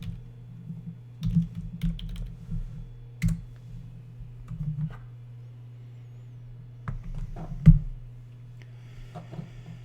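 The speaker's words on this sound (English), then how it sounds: "type in TinkerCad.com into their browser window" Computer keyboard typing comes in short bursts of clicks, fairly close and moderate in loudness, over a steady low hum with pauses between keystroke runs.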